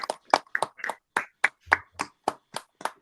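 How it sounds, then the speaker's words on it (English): A small group clapping on a live podcast, about a dozen distinct claps at a steady, slightly uneven rhythm, close and fairly crisp, with no talking over them. "Saul, round of applause, ladies and gentlemen."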